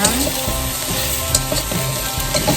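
Squid tentacles frying in a pan with garlic and sliced scallions give a steady, loud, close sizzle, with the stirring scraping through it in short bursts.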